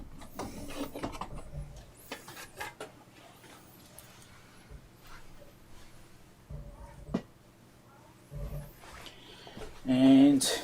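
A Datron 1062 bench instrument is flipped over on a workbench, giving a few scattered knocks and clunks with small rattles, loudest near the end, amid quiet room noise.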